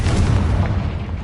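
A Confringo blasting spell explodes in Hogwarts Legacy with a single loud, deep boom that sustains briefly and rumbles throughout.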